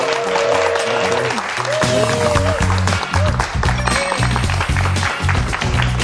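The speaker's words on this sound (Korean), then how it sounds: "여러분 큰 박수 부탁드립니다." A studio audience at a Korean televised lecture show claps steadily for a speaker's welcome, with music and tonal cues sounding over the applause throughout.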